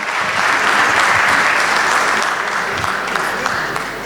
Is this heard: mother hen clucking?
no